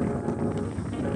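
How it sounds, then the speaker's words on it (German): Strong, gusty wind at a skatepark in Holland roars across the microphone in a low, continuous rumble with fluttering buffets throughout a brief one-second stretch. "Seht da mal, wie stürmisch das ist!"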